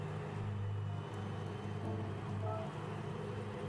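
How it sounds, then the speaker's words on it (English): Steady rain falls during a Gran Turismo 7 race at Le Mans, an even hiss layered over a low continuous car engine drone, with no talk. "Because it is actually raining."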